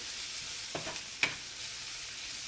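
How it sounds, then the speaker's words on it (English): Black pepper and spice powders are stirred into a frying prawn masala. A steady sizzling hiss runs throughout, broken by two brief scraping clatters from the spoon, with no talking. "the rest of the black pepper, and give it a nice stir"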